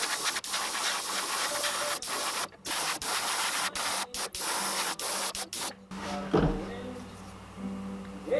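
White acrylic paint is airbrushed onto the belly of an oversized bluegill fish model, giving a continuous close hiss broken by brief pauses and clicks, then cutting off near the end into a quieter room.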